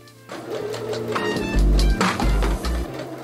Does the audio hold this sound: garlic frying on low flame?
no